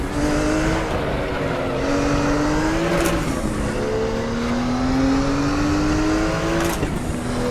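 A Porsche 934 Turbo RSR engine in the racing game RaceRoom drones steadily with rising pitch sweeps as it accelerates and shifts, loud and continuous, with brief whooshes of passing cars and no talking.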